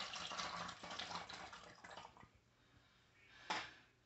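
Hydrogen peroxide poured into a half-full cup for an elephant toothpaste experiment, a soft liquid trickle over the first couple of seconds followed by a brief clink near the end, close and fairly quiet.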